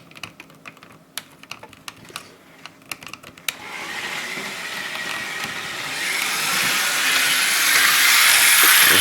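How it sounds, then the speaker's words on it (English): A Transformers G1 Tyco toy train is switched on and runs on its track. Sharp clicks come first, then a steady whirring hiss that builds in loudness, up close. "so let's just turn on the train"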